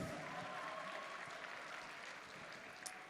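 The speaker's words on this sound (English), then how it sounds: "Can we have a big round of applause? For Battle of the Brains." Faint, distant audience applause for a Battle of the Brains contest at a conference closing session, a soft continuous patter of clapping that slowly tapers off.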